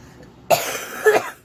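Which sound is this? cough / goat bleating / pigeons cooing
cough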